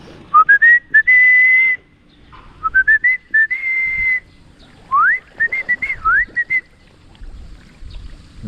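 A person whistles to call a pigeon down to land by a hut: repeated rising whistled phrases and longer held notes in short bursts, close and clear with little else around.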